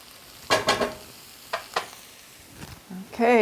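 Canned mushrooms sizzle in a frying pan for hamburger beef stroganoff as they are stirred, with a few loud scraping, squeaky strokes over a soft, steady frying hiss.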